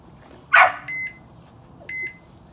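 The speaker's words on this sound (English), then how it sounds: "Just in time for the timer to go off." A kitchen cooking timer goes off with two short, bright electronic beeps about a second apart, following a brief louder clatter, while tri-tip and pasta salad are being smoked.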